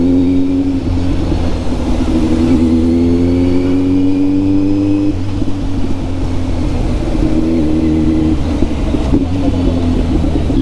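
A Kawasaki Z900 motorcycle engine with its dB killer removed revs loudly and steadily at close range, its pitch climbing and falling through several throttle blips over a constant deep exhaust rumble.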